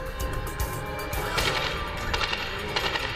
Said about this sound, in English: Shots are still being fired.